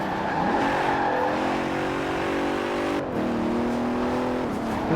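A 2017 Bentley Continental Supersport in Forza Horizon 4, its deep bassy engine droning steadily, revving up and shifting with a brief dip before climbing again, close and continuous.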